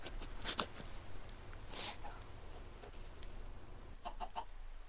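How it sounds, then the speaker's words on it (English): Chickens cluck in the video game Minecraft: a few faint, sharp clucks and squawks over a steady low hum, with a quick burst of clicks near the end. "I made a path for the third chicken to get in there."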